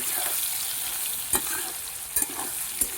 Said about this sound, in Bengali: তেল কিন্তু ফাইনালি আমার গরম হয়ে এসেছে সয়াবিনগুলো আমি এবার ছেড়ে দিয়েছি ভালো করে এটা আমি ভেজে নিচ্ছি